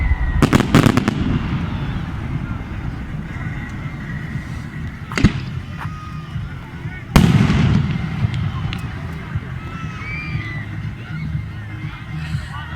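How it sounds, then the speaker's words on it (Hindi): Eid fireworks bursting over New Metro City in Sarai Alamgir at night: a cluster of sharp bangs at the start, then two more booming blasts with crackling tails, over a crowd's background murmur and some talk. "इतनी शानदार आतिशबाजी,"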